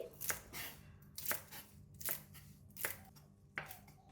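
A knife chops spring onions and Chinese parsley on a cutting board, five distinct, evenly spaced thuds at a moderate pace, close and fairly quiet with no talking.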